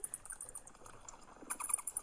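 A bat calling: rapid high-pitched chirps and squeaks in quick irregular bursts, thin and twittering, growing busier and louder toward the end with no voices.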